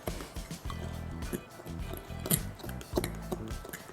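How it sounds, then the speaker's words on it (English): Vegan vanilla cake mix batter being stirred in a bowl, with soft clinks and scrapes of utensil against the bowl in quiet bursts, close and fairly faint. "So you just mix it until all the flour and liquid has incorporated and it's nice and smooth."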